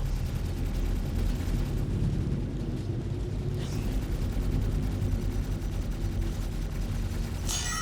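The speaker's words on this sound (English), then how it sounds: "Let's get those turrets firing." Ship turrets firing in a space combat game during a crewed Constellation battle, a dense, steady rumbling barrage of rapid shots with a sharp burst near the end, loud and continuous throughout.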